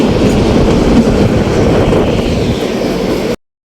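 Kalka–Shimla toy train rolling along its mountain tracks, a loud, steady close-up rumble with rhythmic wheel clatter that carries on without pause, with no voices over it.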